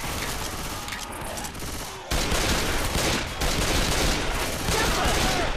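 Rapid gunfire bursts in the zombie shooter game Left 4 Dead 2, dense and loud, growing heavier partway through, with a voice calling out under the shooting.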